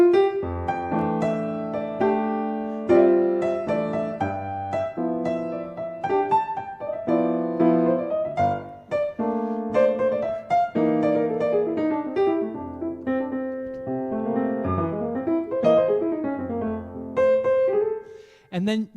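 Jazz piano chords are voiced in fourths, played as a flowing series of struck, ringing chords with moving inner lines. The sound is close and full, and no one talks over it.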